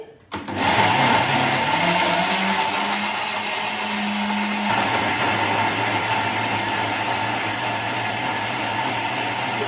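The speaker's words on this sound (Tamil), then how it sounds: "இப்போ நான் வந்து இந்த சக்கை பழத்தை வந்து அரைக்கிறேன்" A kitchen blender grinds jackfruit for appam, starting with a brief stutter and then settling into a loud, steady whirring motor drone that shifts slightly in pitch partway through, close to the listener.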